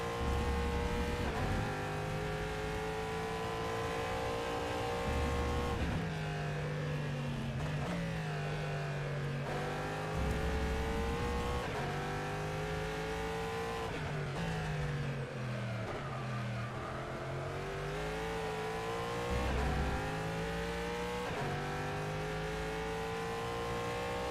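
A Corvette GTE race car engine in the rFactor 2 racing sim revs continuously and loudly, rising and falling in pitch through gear changes across the whole stretch, with no talk.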